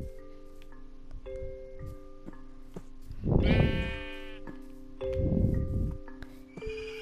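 A sheep bleats twice in a game setting, two loud wavering calls that rise over a quieter background of sustained electronic tones and soft low thumps.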